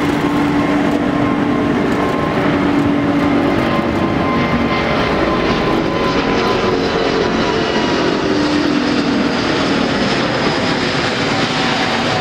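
A Vietnam Airlines Airbus A350 in SkyTeam livery at Tan Son Nhat airport in Saigon gives off a loud, steady, broadband engine roar that holds unbroken and close throughout, with no voices over it.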